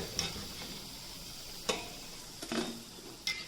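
A low, steady sizzle of pakodas frying in oil, with a few sharp clicks and clinks of a utensil stirring now and then.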